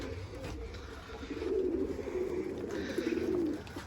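A Sabuni pigeon on a balcony coos angrily, a low throaty rolling coo repeating in a few close bursts against quiet background.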